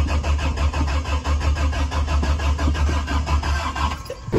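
A car engine cranks over and over without catching, because the tank is out of gas. The starter churns in a steady, loud rhythm close by, with a sputter near the end.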